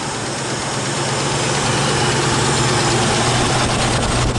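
Ford Maverick V8 engine running at a steady, loud idle right after starting, a close low rumble with even vibration and no talking over it.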